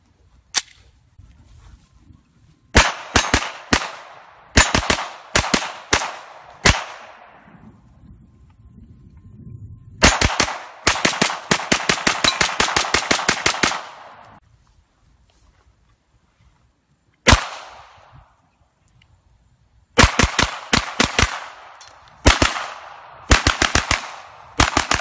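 Sig Sauer MPX fired in rapid bursts and strings of sharp, loud gunshots, with several pauses between volleys and a final rapid string, no talking.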